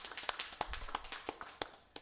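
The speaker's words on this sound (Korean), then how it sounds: "우리 하나님 앞에 감사 박수를 올리겠습니다." Church congregation clapping at a Christmas service, a sparse scattering of separate claps rather than dense applause, fairly faint and close, with no talking.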